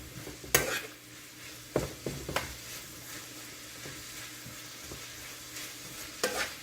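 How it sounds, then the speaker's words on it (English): Food sautés in a hot pan for a soul food holiday dinner, a soft continuous sizzle broken by clanks and scrapes of a utensil stirring against the pan, close-up with no talking. "I'm sauteing it, so I'm turning up just a little bit because I just want to saute it like a slightly fry."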